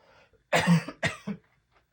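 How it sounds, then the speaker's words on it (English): Two or three harsh coughs in quick succession, close and fairly loud, followed by silence. "Excuse my cough."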